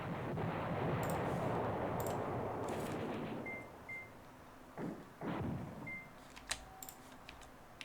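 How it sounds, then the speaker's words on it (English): Artillery bombardment in the war strategy game Command Ops 2: a heavy, continuous rumble of distant shelling that fades out, followed by a few separate dull booms and sharp cracks. "we're bombarding them already"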